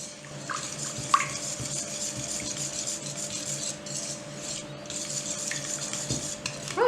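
Egg yolks whisked together in a bowl for a lemon meringue tart filling, a steady close rustling swish with a few light clinks of the whisk against the bowl.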